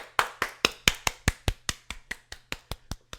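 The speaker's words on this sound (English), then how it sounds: "I give a round of applause." One person claps their hands alone in a steady, even rhythm, about fourteen crisp, close claps that soften slightly toward the end, with no talk.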